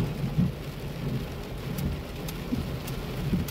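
Steady rain falls outdoors in a steady wash of hiss, with soft low thuds and occasional brighter drips. It continues evenly throughout, with no voices.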